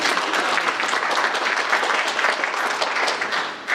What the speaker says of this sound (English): But you can clap if you like.